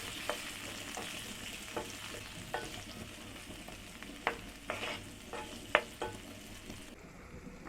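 Two cut tomatoes frying in a pan for a Chinese tomato egg dish, with a low steady sizzle broken by repeated sharp scrapes and clinks of a stirring utensil, close and alone before it stops abruptly.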